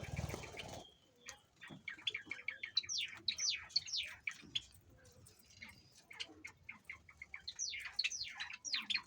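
Pet budgerigars chirp busily while eating their food, giving a dense, fast run of bright close tweets and trills with a short rustling burst at the start and no talking.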